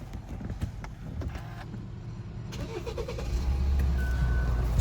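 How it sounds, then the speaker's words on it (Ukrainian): A Hyundai Santa Fe 2.2 CRDI diesel with automatic gearbox and 4WD starting up, a brief crank followed by a steady, rising low idle rumble close by, with no talking. "Зараз я вам ще покажу, заведу двигун"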